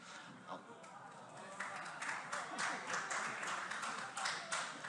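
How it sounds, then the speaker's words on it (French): Applause rises from the left-hand benches of a municipal council chamber, starting faint and swelling after a couple of seconds into steady, moderately loud clapping that carries to the end. "Applaudissements idéologiques et convaincus sur les bancs de la gauche."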